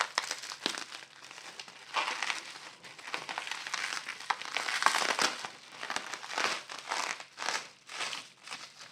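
Heavily taped parcel being unwrapped by hand, with continuous close crinkling and crackling of plastic and tape in irregular bursts, tearing sounds scattered throughout.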